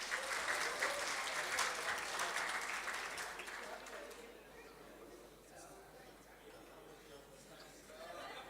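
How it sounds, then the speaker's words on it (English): Audience applause fills a rugby referees' awards dinner, a loud sustained clapping from a large indoor crowd that fades after about four seconds into quieter murmuring and scattered claps before swelling slightly again. "Let's give another round of applause to Gustav Hahn"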